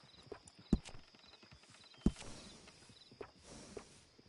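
Horse hooves clip-clop in the Red Dead Redemption 2 video game, a couple of sharp near knocks standing out among softer scattered steps and light ambient rustle.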